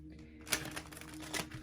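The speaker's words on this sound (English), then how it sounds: "I'm going to shuffle quickly on camera for you guys" Tarot cards are shuffled quickly by hand, a quiet flurry of soft riffling clicks and flutters starting after a brief pause, with no talking.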